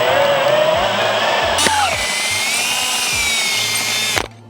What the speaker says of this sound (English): we're just going to drill these holes out to the full size